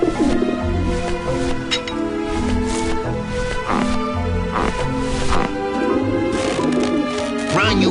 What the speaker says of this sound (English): I don't like the looks of those pigeons.